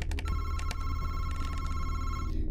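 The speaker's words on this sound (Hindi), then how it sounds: "टेलीफोन, ये सच में बज रहा है या फिर से वैसी?" Old telephone ringing inside a house in a horror video game, a steady repeating bell tone that runs continuously and fairly close over a low ambient drone.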